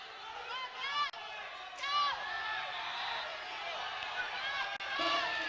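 Crowd noise at an NCAA Division I college wrestling dual, Boise State at Utah Valley University, with fans shouting and whooping continuously, rising in bursts, mixed with an announcer's voice.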